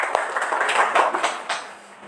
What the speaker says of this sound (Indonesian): kita beri tepuk tangannya dulu ya.